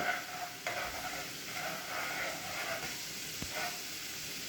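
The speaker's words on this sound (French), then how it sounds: "Une fois les échalotes revenues, on vient déglacer au vin blanc. On attend que le vin blanc réduise." White wine sizzling and hissing as it deglazes a pan of sautéed shallots and reduces, a steady soft fizz with occasional faint stirring clicks, heard close and quiet.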